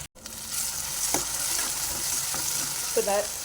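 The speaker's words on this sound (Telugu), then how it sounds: "టమాటాలు కూడా వేసుకొని మగ్గించుకుందాం." Tomatoes are added to a dry fish curry (yenduchapala) and fry in a pan, sending up a continuous close sizzle with a few faint stirring scrapes and a brief clink near the end.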